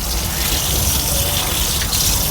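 Steady rushing water pours continuously into an aquarium, like a stream from a tap filling a container, loud and close with no talking.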